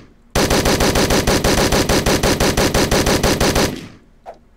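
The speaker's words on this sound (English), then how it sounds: "There's an AK over here. Grab that, dude." An AK rifle fires in the game Hotline Miami: a loud, close, rapid automatic burst of about three seconds with evenly spaced shots, then a quick fade and one faint click, no talking.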